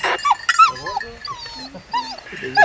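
A pack of hunting hounds bays loudly at a hound pack competition in Roiffieux in 2023, several long, rising and falling voices overlapping close up in a continuous clamour.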